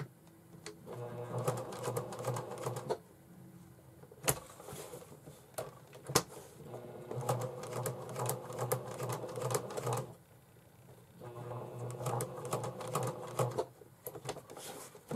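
A domestic sewing machine stitches fabric for a bag in bursts of rapid mechanical whirring, stopping briefly between runs, loud and close with no talk.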